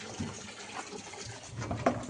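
Water runs from a tap in a steady, soft, gushing stream, faint and continuous, with a brief splash near the end.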